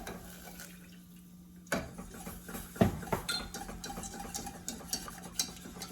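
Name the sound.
whisking broth into a thick sauce in a pot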